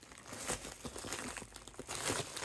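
A plastic bag of reborn doll supplies is torn open by hand without scissors, giving close crinkling and ripping in uneven bursts that swell louder near the end, with no voices.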